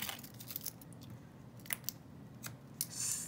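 Scissors snip paper at a card-making table, giving a few crisp, irregular cuts up close over a quiet room.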